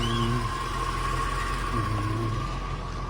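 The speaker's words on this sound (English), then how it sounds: "The fan kicked on." In a 1992 Corvette LT1 convertible, an engine idles steadily while a cooling fan hums continuously at moderate loudness throughout, with no voices.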